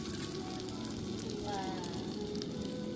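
Cornflour-coated food fries in oil over an open fire, giving a steady, continuous sizzle and crackle close by without pause.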